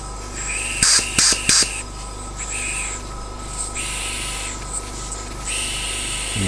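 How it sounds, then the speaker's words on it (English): Compressed air leaks past the inlet valve of a Jerry Howell V-twin model IC engine during a leak test after valve lapping: three short, sharp hisses close together, then softer intermittent hissing over a low steady hum. "Well, I can hear air leaking."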